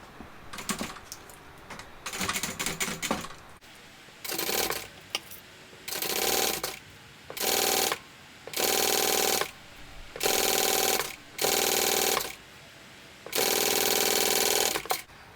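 Sewing machine basting bag lining onto zipper tape at an eighth-inch seam, running in a series of short bursts of stitching with brief pauses between, steady and close, with no talking.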